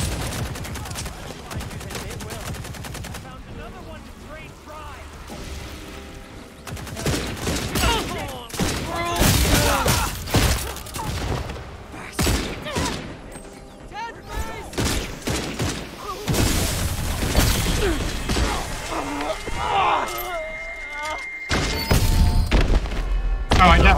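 Video game combat with dense, rapid blasts and heavy thuds like grenade explosions, mixed with gunfire bursts and voices speaking over the action.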